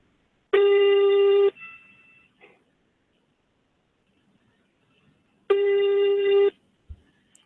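Two long bursts of a continental-style telephone ringing tone, each about a second, separated by a pause of several seconds, heard fairly loud with faint room noise between rings.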